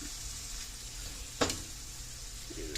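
Tater tot casserole filling with Worcestershire sauce browning in a pan, a steady low sizzle throughout with one brief sharp clink or scrape partway through.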